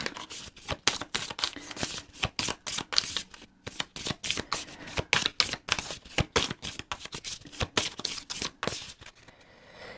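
Small oracle cards are shuffled by hand in quick riffling bursts, a dense run of crisp close flicks and snaps with brief pauses between handfuls, and no one talks.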